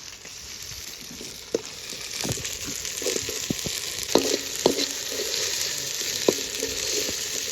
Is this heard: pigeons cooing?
no